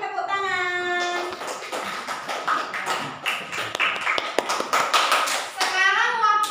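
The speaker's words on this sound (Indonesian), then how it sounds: "tepuk tangan" A school class applauding after a student answers, a short burst of hand taps and claps in a classroom, preceded and followed by a teacher speaking, with children's voices mixed in.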